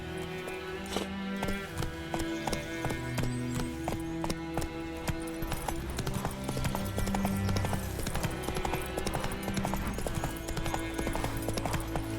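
The horse Roach gallops in The Witcher 3, a rapid, steady run of clip-clop hoofbeats, fairly close and continuous, layered over background game music.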